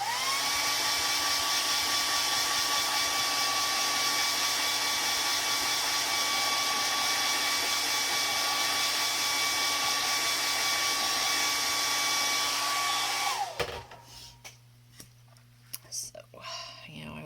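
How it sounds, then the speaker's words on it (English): A hair dryer drying acrylic paint blows with a loud, steady whine and rush of air for a long stretch, then switches off, leaving quieter room sounds and faint talk. "when you're painting an acrylic, the hair dryer is your friend because it allows you to keep moving"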